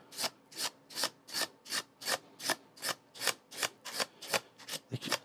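A regular box cutter shaves rubber off a stubborn golf grip in about a dozen steady, evenly spaced rasping strokes, each a short, close scrape with brief pauses between.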